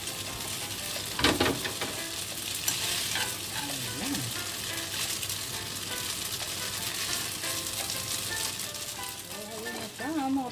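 Shrimp and zucchini sizzling on a hot grill, a steady dense frying crackle throughout, close and continuous, with a few faint clinks and brief background sounds.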